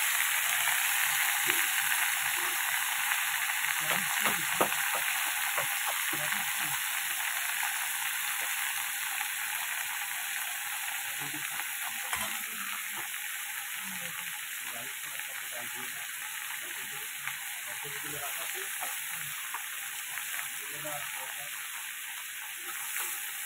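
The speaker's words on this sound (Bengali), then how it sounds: "পুঁইশাকের ডাঁটা, কুমড়ো, বেগুন, আলু, এগুলো একটু ভেজে নেবো" Malabar spinach stems, pumpkin, eggplant and potato frying in hot oil, a steady broad sizzle running throughout with scattered spatters and occasional stirring scrapes.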